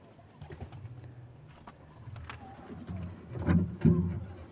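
Pigeons coo softly in a loft, low throaty calls that grow louder and closer toward the end, with faint rustling in the background.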